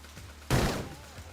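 A single sharp gunshot in the PC game Blade Runner, a loud close blast that decays quickly over a low hum.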